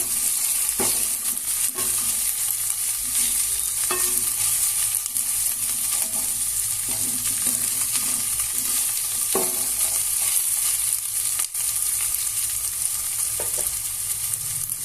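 Chopped onions and ginger frying in a pan for goru chikkudu curry, a constant loud hissing sizzle with occasional stirring clacks of a spoon, close up and without talking.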